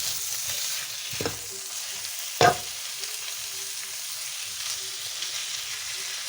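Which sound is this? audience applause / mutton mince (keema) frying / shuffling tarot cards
mutton mince (keema) frying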